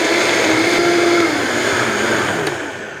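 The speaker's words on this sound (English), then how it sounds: "Got it all together in the blender." A blender whirs loudly blending a cilantro tomatillo sauce, with a steady motor drone that slightly shifts pitch, then tapers off toward the end.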